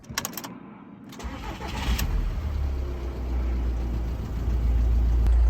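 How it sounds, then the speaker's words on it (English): A Volkswagen Transporter T5.1 van engine cranks briefly, catches and starts, then settles into a steady low idle that swells slightly louder toward the end. "we're going to start the engine and see if any come back"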